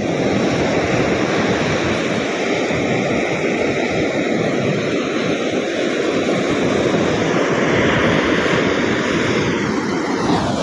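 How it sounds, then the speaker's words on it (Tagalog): Continuous heavy roar of rough surf, broadband and steady throughout, with no voices. "Maalon po talaga"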